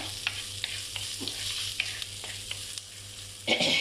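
Onions sizzle in a hot pan with a steady crackling hiss, broken by a few scraping stirs of a spoon; the onions are salted to soften faster, cooking after mustard seeds are fried for a fish curry.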